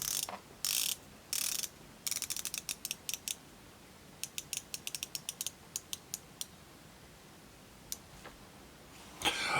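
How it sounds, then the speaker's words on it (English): Bezel of a Trintec Copilot GMT pilot watch being rotated, giving crisp, close ratcheting clicks in quick bursts and separate single ticks, with short pauses between turns. "if you're interested in how the bezel action is, it's nice. There is no play."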